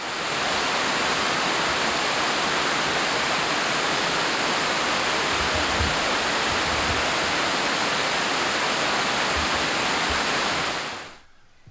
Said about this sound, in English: The water travels through a cavernous conduit to the surface where it will cascade 200 feet and flow into the upper Iowa River.